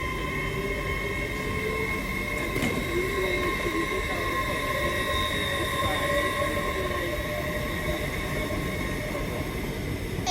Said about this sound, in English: Departing now is an LNER Zuma service from London King's Cross to Edinburgh Waverley.